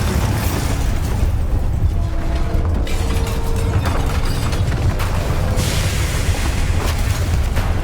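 Bombarda spell explosion in the video game Hogwarts Legacy, a loud, dense blast that rumbles steadily through the whole stretch with booming low energy and bursts of crackling debris, no voices over it.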